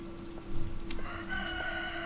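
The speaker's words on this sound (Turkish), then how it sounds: "Bak oğlum horoz da ötüyor." A rooster crows in a game soundscape, a drawn-out cock-a-doodle-doo over a steady electronic hum and background music, moderately loud.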